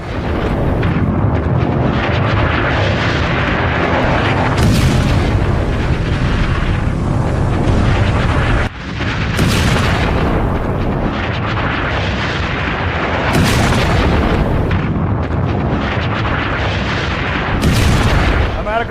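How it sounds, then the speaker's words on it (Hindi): Sea mine explosions in an AI-generated scene, a series of loud booming blasts that roll into one another, with heavy sustained rumble and sharp bursts roughly every few seconds. "जहाज जैसे ही वहां तक पहुंचते हैं और धमाके हो जाते हैं, ठीक इस तरह से करके धमाके होते हैं"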